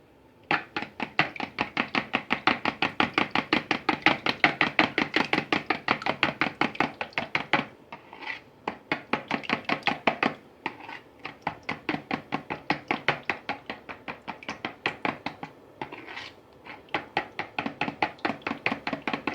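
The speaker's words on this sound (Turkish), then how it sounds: "Ve bu sıvı malzemelerini karıştıracağım şimdi ben." Liquid ingredients and vegetable oil whisked in a bowl for a crispy ring dessert, a fast steady rhythmic tapping of utensil against bowl in long bursts with brief pauses, close and clear.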